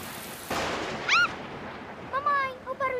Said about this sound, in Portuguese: o barulho do trovão está muito alto